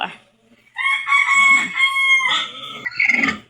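A rooster crows loudly and close by, one long drawn-out call followed by a shorter rough squawk.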